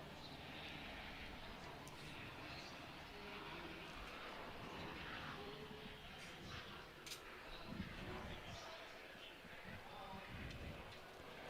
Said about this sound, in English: C-130 and the Jayhawk from Air Station Elizabeth City working hard for us.